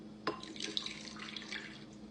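Warm water, three-quarters of a cup, pours into a pie dough mixture of egg, salt and baking soda, a steady close splashing trickle lasting a couple of seconds with a sharp first splash.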